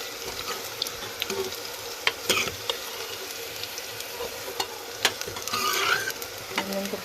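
Soybean chunks fry in a pan for soybean keema with potato, giving a constant hiss and crackle broken by irregular scraping and clacking stirs, near and moderately loud, with no speech.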